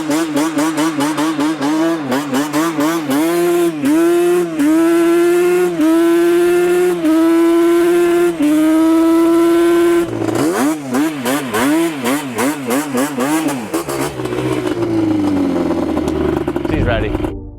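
Yamaha Banshee quad engine, running low on fuel, revved repeatedly up close: a loud two-stroke buzz that swells and falls in pitch, then turns into rapid, choppy blips before dying down.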